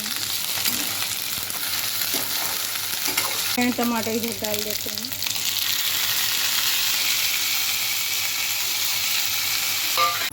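Mixed vegetables with tomato, potato and cauliflower sizzle steadily in a tempered pan, a continuous loud frying hiss running throughout while someone talks briefly over it.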